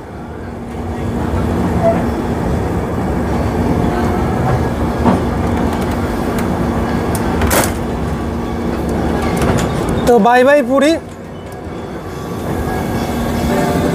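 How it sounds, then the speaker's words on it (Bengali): The 22202 Puri–Sealdah Duronto Express pulls out of Puri station at night, heard from inside a first-class coach as a steady rumble with rail clatter and creaks. A person speaks briefly near the end. "তো ট্রেন ছেড়ে দিল"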